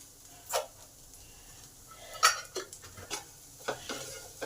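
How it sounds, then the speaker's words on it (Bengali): A spoon scrapes and knocks around a pan as taro (arbi) curry with masala is stirred, a handful of separate scrapes spread out over quiet, faint sizzling. "এটাও ভালো করে কচুর সাথে মিশিয়ে দিই"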